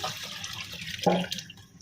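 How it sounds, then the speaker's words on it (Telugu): Spiced masala water for mandi biryani is poured into a cooking vessel, a short gushing splash of liquid rising briefly over a quiet kitchen background. "మసాలా వాటరు ఇందులో అన్ని మసాలాలు వేస్తాం బిర్యానీకి సంబంధించినవి అన్నీ కూడా ఆ వాటర్ని ఇందులో పోసుకుందాం"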